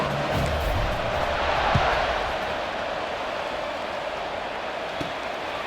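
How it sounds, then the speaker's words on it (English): Steady stadium crowd buzz fills a College Football 26 game broadcast (Duke vs Cal) after a touchdown, a dense continuous roar with a brief swell near the start, heard alone with no clear talk. "this crowd is buzzing after that last score"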